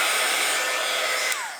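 A heat tool blows steadily on a crafted playing card, a continuous loud airy whoosh that dips slightly near the end as it is switched off or pulled away.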